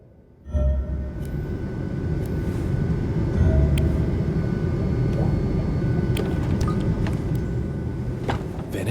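An airplane cabin in flight from D4: Dark Dreams Don't Die hums as a steady, broad engine drone that starts abruptly and holds evenly, with faint clicks and no talking.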